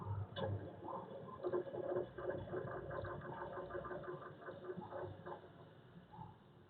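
An engine with a runaway fault, its air valve opened, starts and runs up, giving a loud, continuous mechanical roar with a steady churning pulse that holds nearly the whole time before easing slightly at the end.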